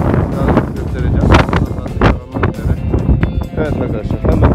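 Strong wind buffeting at a windy spot near a silver mine, a loud continuous rushing roar with microphone gusts, while someone talks over it.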